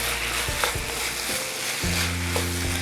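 Chopped green onion sizzles in a hot pan alongside cooking meat, a close, even hiss with a few soft taps and stirs, no talking.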